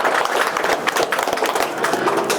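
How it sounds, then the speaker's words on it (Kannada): An audience at a Shivaratri gathering at Vanasiri Ashrama in Yerehalli claps to welcome a guest. Dense, continuous applause rises and falls over a couple of seconds, with faint voices mixed in. "ಚಪ್ಪಾಳೆಯ ಮೂಲಕ ಅವರಿಗೆ ಸ್ವಾಗತವನ್ನು ಕೋರ್ತಾ ಇದ್ದೇನೆ"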